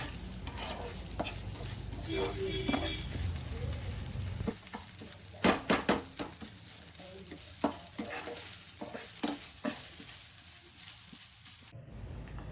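Onion with ginger-garlic paste sautéing in a pan for a squid fry: a steady frying sizzle under repeated scraping stir strokes, which grow sharper and more frequent in the second half.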